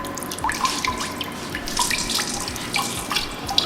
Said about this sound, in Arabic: بتصيروا تزيدوا مي معهم لحتى يصيروا مثل العجين